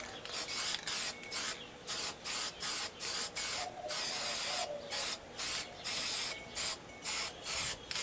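Black spray paint hisses from an aerosol can over a butterfly stencil in repeated short bursts of about half a second each, separated by brief gaps, steady and fairly close with no talking.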